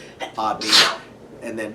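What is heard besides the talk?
sneeze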